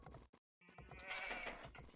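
Sheep bleating in the strategy game Age of Empires II, a short nasal bleat rising over a busy game soundscape after a brief gap of silence, with no talking.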